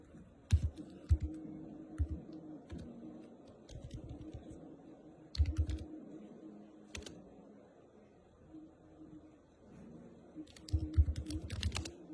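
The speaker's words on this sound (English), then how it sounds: "Let me try typing a sentence." Bursts of typing clatter on a computer keyboard, with quick clusters of keystrokes separated by pauses, close and moderately loud.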